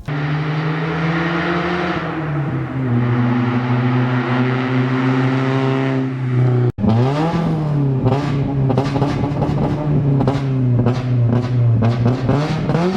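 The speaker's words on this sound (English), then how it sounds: "the ISR circuit spec exhaust that includes a mid-pipe and muffler" A first-generation NA Mazda Miata with an ISR circuit-spec exhaust, mid-pipe and muffler revs hard and close, dropping to a rumbling idle, then rapid sharp throttle blips crackle repeatedly.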